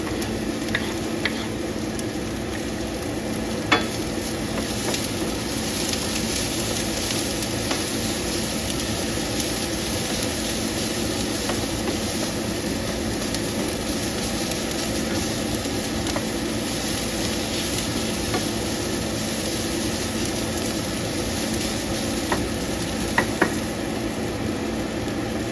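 Ginger frying in a hot pan gives a steady, even sizzle that runs continuously and close, with a few faint clicks of utensils now and then.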